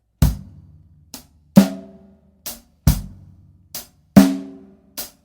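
A drum kit plays a beginner backbeat groove, bass drum on beats one and three and snare on two and four: alternating booming kicks and sharper cracks with lighter hits between, close and loud, with no talking.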